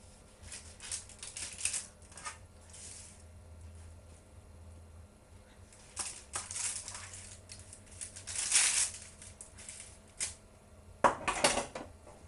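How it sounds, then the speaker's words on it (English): Soft baked jacket potatoes are halved and their flesh scraped out with a fork into a large bowl: quiet, irregular scrapes, clinks and taps against the dish, with brief louder bursts. "we're going to cut each potato in half and scrape out the flesh"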